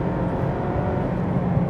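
A 2024 Mazda MX-5 engine drones steadily from close by during a downshift on wet UK roads, a continuous low rumble with a slight rise in pitch.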